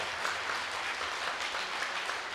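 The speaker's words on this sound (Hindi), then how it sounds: "और एक बार परमेश्वर के लिए तालियां बजाएं जोर से," A church congregation claps loudly and continuously, a thick, even roar of many hands filling the room with no pauses and no voices standing out.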